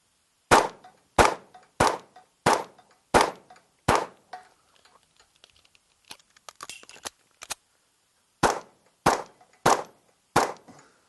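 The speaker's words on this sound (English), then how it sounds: "I'm going to rip the magazine out and put the new one in." A gun magazine being ripped out and a new one inserted during a reload drill: a run of sharp, loud clacks at a steady rhythm, then quiet rustling and small knocks, then another evenly spaced run of clacks.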